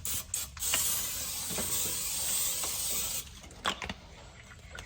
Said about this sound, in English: I'm going to spray the pan down.